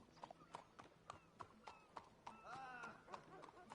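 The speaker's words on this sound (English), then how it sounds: "Get on your horse, John." Steady clip-clop of horse hooves at a walking rhythm in Red Dead Redemption 2, with a horse whinnying partway through and voices talking faintly underneath.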